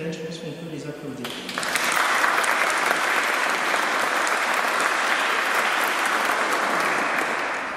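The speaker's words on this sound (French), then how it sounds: "Je pense qu'on peut les applaudir." A congregation at a Mass marking the Grand Séminaire de Montréal Foundation's 35th anniversary applauds the singers and organist. A brief moment of speech comes first, then loud, full applause swells in and carries on steadily to the end.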